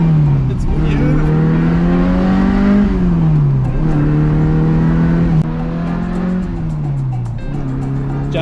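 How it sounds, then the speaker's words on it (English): A car engine revs and pulls through gears up close, its note rising and falling in several smooth sweeps, with a steady engine drone throughout and voices talking over it. "What a beautiful engine note, hey?"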